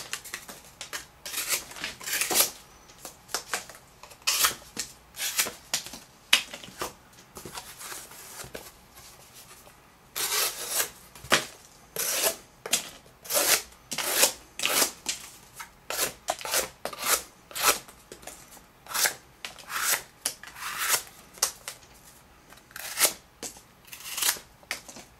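A knife blade of AEBL or O1 steel slices through gift box cardboard in repeated short, scratchy strokes, close and crisp, arriving in uneven bursts with brief pauses between cuts.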